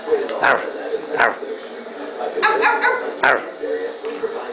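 A Boston terrier gives a few short, sharp yips and bow-wows at close range, spaced irregularly, with a voice talking around them.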